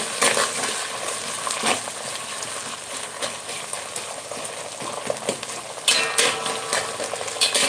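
Ginger-garlic paste tempering sizzling in a hot pan for Khandeshi eggplant bharit, a continuous close frying hiss with occasional spoon clinks and stirring scrapes.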